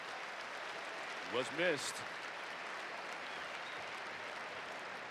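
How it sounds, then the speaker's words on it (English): Basketball arena crowd at a 2019-20 ACC men's game between Boston College and Virginia applauding, a steady ovation held under the whole stretch, with a brief voice and a whistle-like tone rising over it near the start. "getting a nice ovation from the crowd here, which is a really nice crowd"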